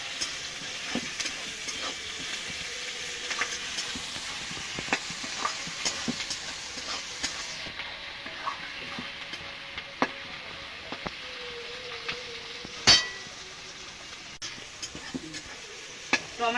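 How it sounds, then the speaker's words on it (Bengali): Chopped tomatoes fry with onion and garlic in a pan for mutton kosha, a soft continuous sizzle broken by scattered scraping and clinking of the stirring spoon, one louder knock near the end. "টমেটো দেওয়ার পর আমি আর একটু ভেজে নিয়েছি"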